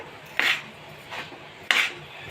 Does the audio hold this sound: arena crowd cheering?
no